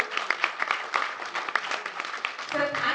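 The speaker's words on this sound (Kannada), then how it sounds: "ಜೋರಾದ ಚಪ್ಪಾಳೆ ಬರಲಿ ಸರ್ಗೆ" Audience applause fills a Kannada film press meet for the movie X & Y, a dense wash of many hands clapping, fairly loud and continuous for about three seconds with a voice faintly mixed in.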